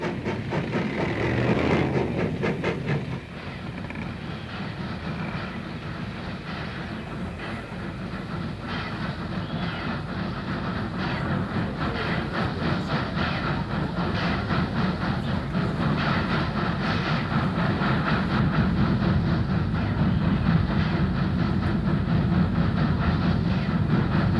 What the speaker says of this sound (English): The eastbound train he's been chasing is starting up after taking water and is coming toward the camera